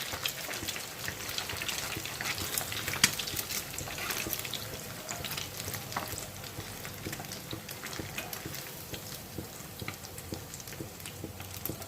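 Fish pieces frying in hot oil for a fish sandwich crackle and spatter in a dense, even sizzle that runs close and steady throughout, with small pops scattered across it.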